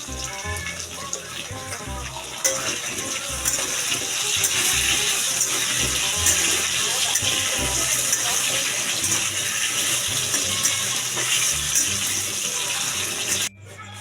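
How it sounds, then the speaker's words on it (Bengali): Potatoes for chicken kosha frying in hot oil, a steady dense hiss and crackle running throughout, close and loud, with faint low thumps underneath and no speech. "প্রথমে মাংসর আলুটা আমি ভেজে নিচ্ছি।"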